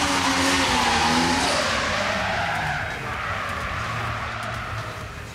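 A drift car at a 2013 drift show qualifying round skids with a broad, hissing tire roar while its engine revs and wavers underneath, loud and close at first, then easing slightly as it moves away.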